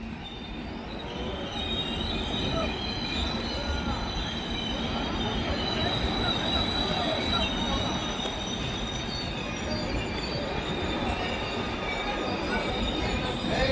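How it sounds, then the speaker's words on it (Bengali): The Sairang Express rolls into platform 1 at Berhampore Court station, a continuous loud rumble of wheels and carriages with metallic squealing, sustained and close throughout. "সাইরাং ঢুকছে বহরমপুর কোর্ট রেল স্টেশন 1 নম্বর প্ল্যাটফর্ম।"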